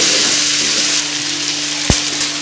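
Onions sizzling and frying in a pan for a vegetable curry, a steady close crackle with a brief clatter of stirring near the end.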